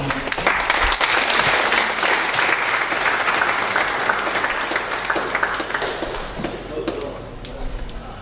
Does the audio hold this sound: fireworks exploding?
no